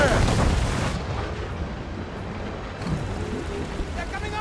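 Sailing-ship cannons fire in a naval battle in Assassin's Creed Rogue: a loud broadside crash opens, and a second volley booms a few seconds later over surging sea and battle noise.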